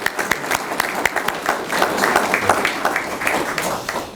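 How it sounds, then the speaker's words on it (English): An audience at a Pearl Harbor remembrance ceremony breaks into warm applause for the main speaker: dense, sustained clapping from a large crowd with sharp individual claps standing out, steady throughout. "let's give a warm round of applause to our main speaker, Chris Kolakowski."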